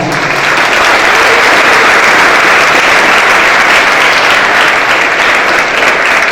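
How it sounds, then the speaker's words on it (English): Loud, sustained applause from a banquet audience for the school's athletic coaches, a dense, even wash of many hands clapping at once that holds steady throughout. "give them a big round of applause"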